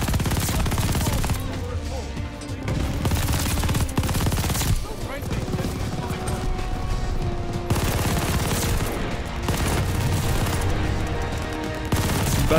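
Sustained automatic fire from an MP4 in Call of Duty: Vanguard multiplayer runs loud and continuous, with steady rapid bursts and heavy gunfire layered throughout.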